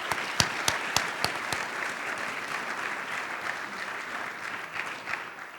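An audience applauds veterans at a Veterans Day volunteer-honoree celebration, starting with a few sharp individual claps that swell into a steady, moderately distant wash of clapping lasting several seconds.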